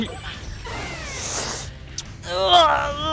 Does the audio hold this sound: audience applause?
no